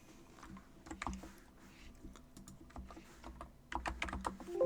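Quick, uneven clicks of typing on a computer keyboard during a search, close but quiet, keys tapping in bursts with brief pauses and no talk.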